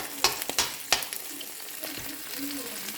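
Minced garlic sizzles in a hot pan for ginataang isda with tulingan, with a few sharp utensil scrapes early on over a steady low frying hiss.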